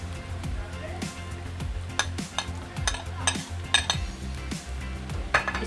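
Fried potatoes stirred in a pan for a bhindi aloo sabzi, with a spoon scraping and clinking against the metal in irregular strokes over a soft sizzle, close and fairly loud.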